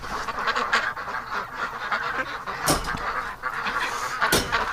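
Several ducks quack and honk together in a busy, overlapping chorus, close by and fairly loud, with a couple of sharp louder calls standing out near the middle and end.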